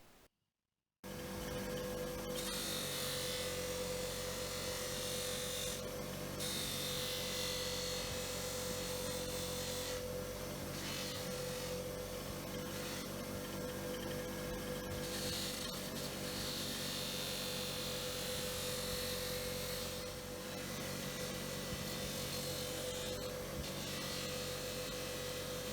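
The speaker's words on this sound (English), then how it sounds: "I'm going to hit it with the flap disc and then give it a bit of a polish" Flap disc on an angle grinder working over a metal adjustable scribe: a sustained high whine with a harsh abrasive rasp, starting abruptly after a second of quiet and running continuously with slight dips as pressure changes.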